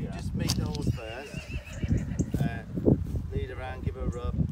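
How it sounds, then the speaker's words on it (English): A horse whinnies with wavering, rising-and-falling calls, heard close by amid people talking and some rustling movement nearby. "Dan, you just meet the horse first,"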